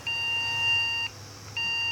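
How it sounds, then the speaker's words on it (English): After a power cut, an electronic device sounds two steady, high, pure-toned beeps separated by a short gap, close and clear against a quiet hum. "Why is it beeping?"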